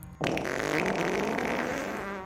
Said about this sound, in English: This friend loves to tell me about how their farts are not and will never be historically or culturally significant